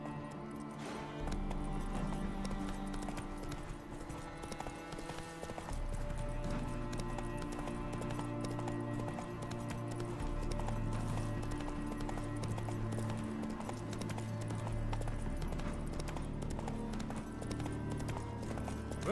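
Horse hooves clip-clop at a steady gallop in The Witcher 3, running on under a loud, continuous orchestral game score with layered tones throughout.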